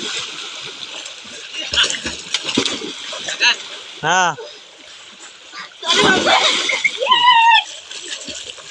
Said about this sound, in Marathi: बघा आता पोहण्याचा सर्वजण आनंद घेत आहेत